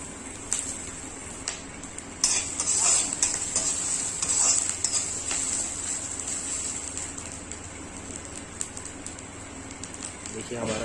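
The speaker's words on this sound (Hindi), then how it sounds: "हमारा करील को इस अच्छे से भून लेंगे।" Kareel (bamboo shoots) stir-frying in a pan over a hot flame, with a steady sizzle and repeated scraping of the spatula, a louder burst of frying partway through.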